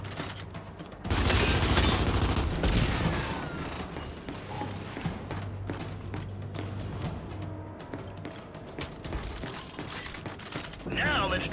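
Gears of War 5 combat with a burst of heavy gunfire, then sustained rattling shots, mechanical clanks and impacts over a steady game background, with a low hum running through it.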